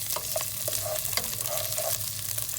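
Chopped onion and garlic sizzling in a pot of hot oil as the base for a seafood soup, a steady close frying hiss with occasional stirring scrapes and no talk.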